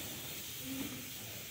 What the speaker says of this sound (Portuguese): beterraba cozinhando separada ali na panela de pressão.